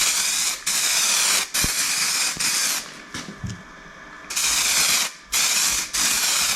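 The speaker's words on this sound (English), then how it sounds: "Let's spray a second layer from the fresh bottle." Repeated bursts of semi-gloss black aerosol paint spraying close by, several long sprays separated by short pauses, with light clicks and rattles in between.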